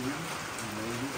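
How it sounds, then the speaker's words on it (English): Heavy rain falls steadily outdoors during chicken coop building, a dense continuous hiss close by with a faint low murmur beneath. "it started raining, so very much."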